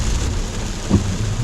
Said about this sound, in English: it is pouring down raining